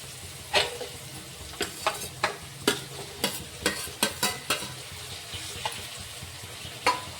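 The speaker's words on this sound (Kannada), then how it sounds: "ಇದಕ್ಕೆ ಈಗ ಟಮಾಟಿ, ಕೊತ್ತಂಬರಿ, ಕರಿಬೇವು ಒಟ್ಟಿಗೆ ಹಾಕೋತೀನಿ ರೀ" Onion with tomato, coriander and curry leaves frying in oil for an egg bhurji, a steady close sizzle punctuated by about a dozen sharp scraping stir strokes spaced through the stretch.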